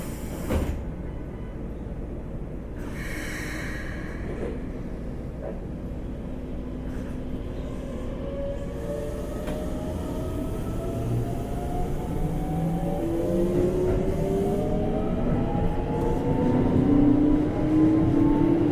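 A Keikyu 1500 series train with a Toyo GTO inverter departs a station, its motor whine rising in pitch in stepped tones as it accelerates, growing steadily louder over the rumble of the wheels.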